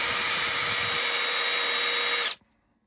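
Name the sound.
power tool polishing a Baker shift drum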